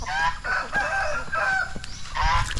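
Geese on a farm give repeated nasal honks while chasing, loud and close, over rustling and scuffling movement throughout.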